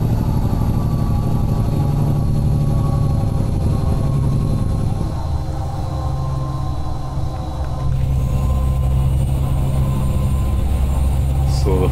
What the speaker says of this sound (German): Aber der Sound, ich finde den mit dem Cat-Motor vorne zu laut